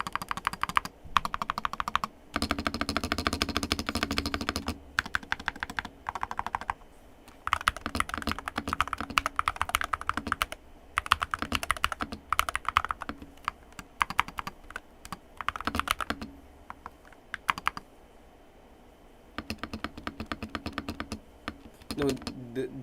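Mechanical keyboard with modded stabilizers being typed on, bursts of close, crisp keystrokes with clacky spacebar hits, pausing briefly between runs.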